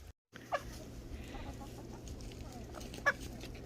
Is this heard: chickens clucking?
yes